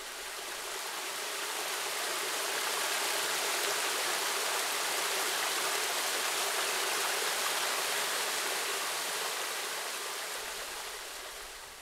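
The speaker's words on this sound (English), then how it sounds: "it's not really a waterfall, but rather a little cascade." A continuous, steady rush of water tumbling over rocks in a small creek cascade at Sherbrooke Falls, a broad even hiss that fades in and out, with no voices.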